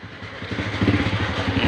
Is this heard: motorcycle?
yes